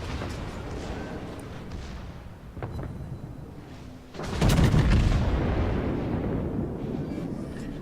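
A Montana battleship in World of Warships fires a main gun salvo: a loud, deep boom erupts about midway and rolls on as a long, heavy rumble over steady background engine noise.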